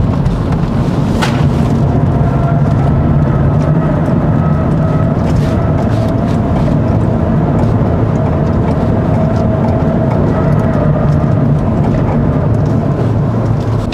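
Steady broadband wind rush fills the cabin of a 2022 Land Rover Defender 110 P300 X-Dynamic SE while driving at speed, with a low road and engine rumble underneath and a few faint tonal hums; no one speaks.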